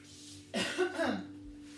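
A single short cough, close and fairly soft, with a slight throat-clearing quality, against a quiet background hum during a Pilates session.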